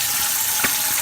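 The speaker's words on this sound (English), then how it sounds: "I just kind of like to run the water in there." Tap water runs steadily into a glass beer bottle being rinsed out during homebrew bottling, a continuous close hiss and splash with one brief gurgle near the middle.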